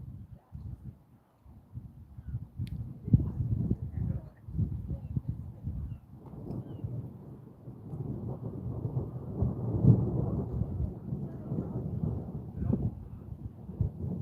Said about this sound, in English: I'll shut up now while we hear some thunder coming in.